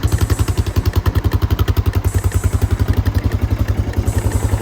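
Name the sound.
motorcycle engine running with new top end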